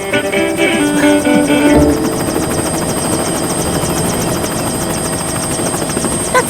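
An emergency helicopter drones loudly and steadily overhead, its rotor chopping in a fast rhythmic pulse, with a brief tonal beeping at the start.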